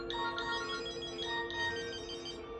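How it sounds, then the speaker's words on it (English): A phone ringtone chirps in repeated short electronic bursts, moderately faint and steady, with no voices over it. "all the text messages started coming through, and actually phones ringing"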